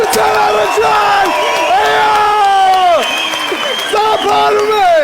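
Audience at a live comedy show in Armenia claps and cheers steadily, a dense crowd roar with shouted whoops and excited voices rising over the applause throughout.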